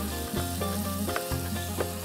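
Ingredients for kırçan kavurması fry in a pan on a stovetop, giving a steady, close sizzle with occasional scraping stir sounds throughout, no talking.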